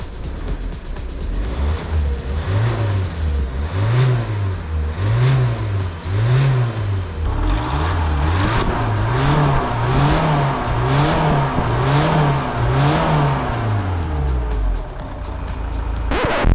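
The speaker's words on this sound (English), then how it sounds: "let's give her a bit of a rev and see if she gives any black smoke" A neglected Peugeot RCZ engine is revved hard in a rapid series of roughly ten short, loud throttle blips, each rising and falling close by, with no voices.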